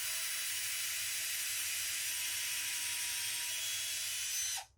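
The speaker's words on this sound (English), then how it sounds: "you're going to get a drill with a 1/8 inch drill bit in it" A power drill fitted with a 1/8 inch bit, set on low speed, whirs steadily at high pitch for a few seconds, then stops abruptly; no voices.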